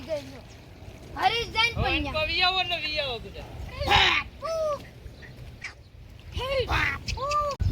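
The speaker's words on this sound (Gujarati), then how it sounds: "બતક ન હોય, જળ કુકડા હોય." Coots calling over water, a series of short nasal, honking calls in irregular bursts, fairly close, with gaps of quieter background between them.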